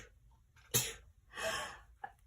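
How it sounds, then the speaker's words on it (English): A single person sneezes indoors, with a sharp intake of breath followed by a loud, explosive burst and some softer breathing afterward. "I could feel that sneeze coming on."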